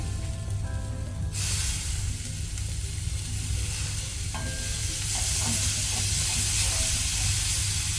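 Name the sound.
chicken curry masala and tomato frying on low flame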